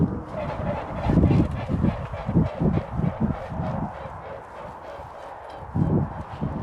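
A pair of swans give repeated honking calls outdoors near Avebury, the rhythmic nasal bursts coming close and fairly loud against a light background hiss.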